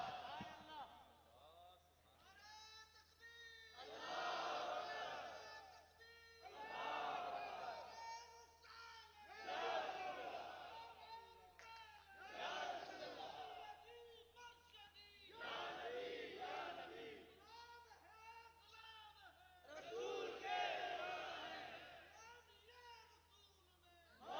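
A crowd at a religious gathering in Golra Sharif, Islamabad, Pakistan chants slogans in loud, rhythmic call-and-response waves, each surge of voices rising and falling with short pauses between, close and sustained.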